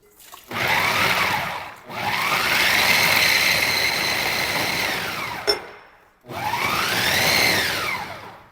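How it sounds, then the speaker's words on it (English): A food processor with an S-blade chops nuts for raw-vegan banana nut brittle, whirring loudly in three runs separated by brief stops, with the motor pitch rising and falling as it spins up and slows. "So it doesn't take long with this food processor."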